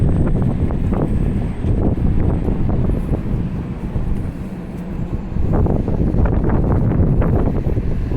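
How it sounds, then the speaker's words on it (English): Strong wind blasts across the microphone on an exposed downtown street near Water and Barrington Streets, a continuous heavy low roar that dips briefly midway and then surges back in loud gusts, with no one talking. "I can't get out of the wind."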